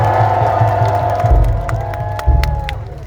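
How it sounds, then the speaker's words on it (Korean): A large outdoor crowd at a presidential election rally in front of Seoul City Hall applauds and cheers for a former Gyeonggi governor, loud and continuous, with shouts and whoops over a booming PA background. "이인재 전 경기도지사님께 다시 한번 큰 박수 부탁드리겠습니다"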